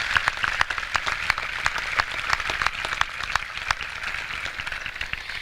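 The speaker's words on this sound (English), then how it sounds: "So I'd like to give every parent a round of applause tonight." Steady applause from a graduation audience honoring the parents at a high school commencement ceremony, dense continuous clapping with sharp individual claps standing out, sustained at even loudness throughout.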